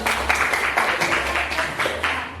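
Classroom applause from students during an Arabic language lesson, a dense steady patter of many small hands clapping together, moderately loud and continuous.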